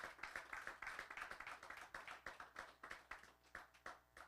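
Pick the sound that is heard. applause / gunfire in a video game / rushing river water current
applause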